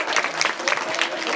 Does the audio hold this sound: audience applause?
yes